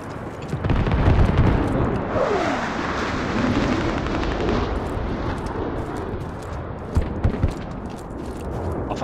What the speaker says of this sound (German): Oh, ich glaube, Feind Airstrike kommt.